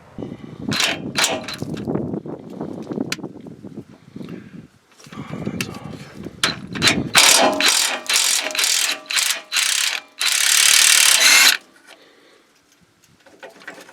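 Ratchet wrench works a 19 mm bolt on a Nissan Titan front differential, giving close bursts of rapid clicking between pauses and a sustained loud grinding stretch near the end.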